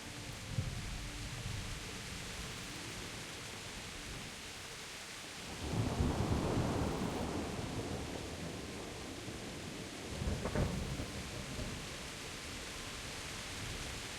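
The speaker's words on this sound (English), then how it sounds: "It's a bit rainy around here." Steady rain hiss fills a Kingdom Come Deliverance storm, with two loud rolling thunder rumbles swelling in the middle and near the end before fading back into the downpour.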